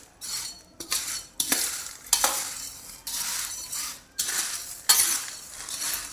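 Fasting chivda snack is stirred and tossed with a spoon in a metal pot in repeated scraping, rustling strokes with light clinks, about one every second, close and clear.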